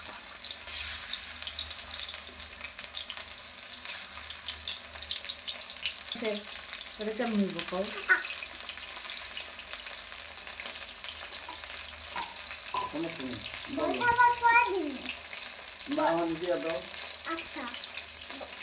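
Chicken pieces fry in a pan in a home kitchen, a low steady sizzle under intermittent talking, with occasional clinks and stirring.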